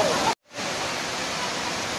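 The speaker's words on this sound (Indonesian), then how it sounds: "Inilah Banjumala Green Waterfall." Constant hiss and roar of the Banyumala twin waterfall, heard up close as dense white-noise rushing water, briefly cut to silence near the start and then continuing steadily.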